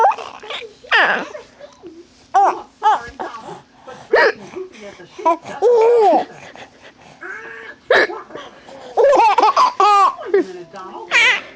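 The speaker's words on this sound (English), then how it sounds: "You think it's funny mommy got the hiccups?" A woman hiccups repeatedly in short, sharp bursts at home, mixed with a small child's giggles, squeals and babbling, all close and fairly loud.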